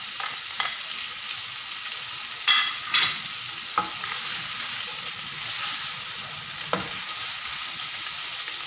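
Chicken and bitter gourd with green chilies fry in a pan with a constant bright sizzle, while scattered spatula scrapes and clicks come through close by.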